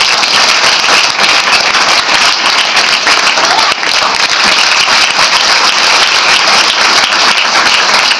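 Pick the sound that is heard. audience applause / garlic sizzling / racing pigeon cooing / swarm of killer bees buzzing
audience applause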